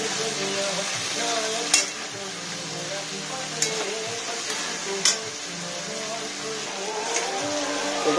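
Ginger garlic paste fries in a pan of mutton curry with a steady moderate sizzle, broken by a few sharp scrapes and clinks of a spoon stirring.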